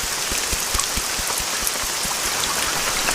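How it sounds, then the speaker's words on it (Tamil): Heavy rain falls in a steady hiss, with distinct drops tapping a surface nearby in a quick irregular patter, loud and continuous with no voices. "மழை வேற அதிகமா பெய்யுதே"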